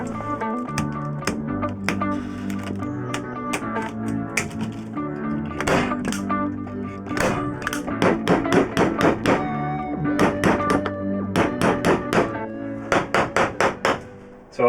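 A staple gun fires repeatedly, fixing fabric strips onto overhead cabinets in a Ford Transit campervan conversion; sharp close impacts come in a quick irregular rhythm over steady background music.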